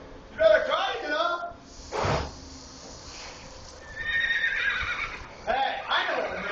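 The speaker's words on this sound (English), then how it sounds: "Let's bring a horse in." A horse neighs in loud, shrill whinnies and breathy snorts amid clip-clop sounds, while people talk nearby.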